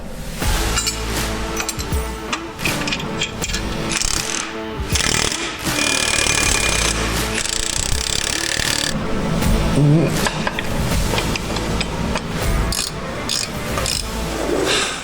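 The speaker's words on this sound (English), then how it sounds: "Let's get the bolts in." Bolts fitted and tightened with a loud power tool in a workshop, steady hammering rattle and clanking running almost continuously under faint background noise.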